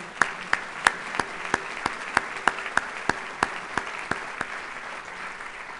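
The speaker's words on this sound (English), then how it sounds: "If you could all stand briefly so we can give you a round of applause" At a university distinguished alumni awards ceremony, a sparse handful of hands clap in a quick, fairly even rhythm of distinct, separate claps in a quiet room, with no voices.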